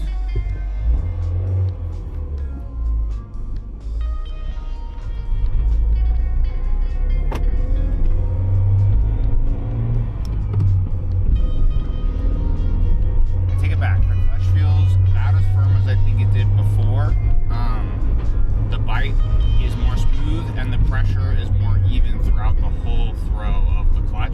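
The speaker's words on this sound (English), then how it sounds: "This is my test drive after bleeding the brakes and the clutch." A car runs on a test drive after its brakes and clutch were bled, its engine rumbling steadily and loudly throughout, growing fuller and busier after the first few seconds as it pulls along.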